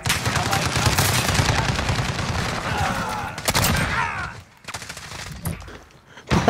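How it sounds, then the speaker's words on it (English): Heavy gunfire in a Call of Duty match with a shotgun in play, with dense overlapping blasts for several seconds. After these, the firing thins out into a few sharp shots. "He just got shot by a shotgun."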